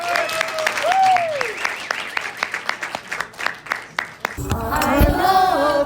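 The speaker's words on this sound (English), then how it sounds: "So a round of applause for Joyce" Conference attendees clap in a round of applause, sharp irregular claps building and then fading into crowd murmur, preceded by a voice and followed by someone singing.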